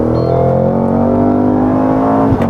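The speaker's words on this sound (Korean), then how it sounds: "여기에서 가속 페달 살짝 밟으면" A Cadillac CT5-V Blackwing engine revs on a light press of the accelerator, a loud, close, sustained growl that climbs slightly in pitch and stays strong throughout.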